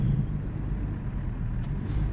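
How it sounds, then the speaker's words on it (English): Air brakes hiss sharply on a truck in the American Truck Simulator game, a short burst over a steady low engine rumble, with a softer second release right after. "I think there's a way to simulate in this game air brakes."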